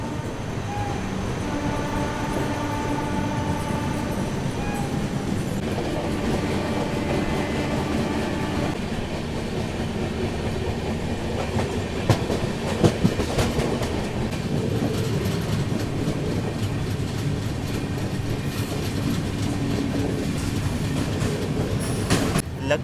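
The Vikramshila Express passenger train rolls along at speed, heard from inside a 3rd AC coach, with a steady rumble, a rhythmic clickety-clack of wheels over rail joints and occasional clanks.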